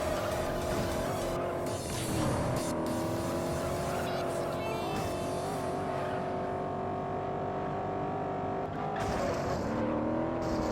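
A car engine drones steadily while the car scrapes and grinds along a wall in the racing game Juiced, with tire squeal and shifting revs running continuously.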